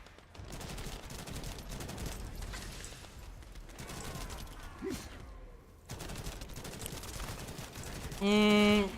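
Rapid gunfire from a weapon in the video game The First Descendant crackles in dense continuous bursts with brief pauses, mixed with game sound effects and a rising tonal chime near the end.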